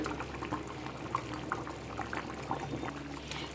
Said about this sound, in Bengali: অবশ্যই এখানে গরম জলটাই দেবেন আপনারা যে পরিমাণ ঝোল রাখবেন সে পরিমাণ হিসাবে জলটা দেবেন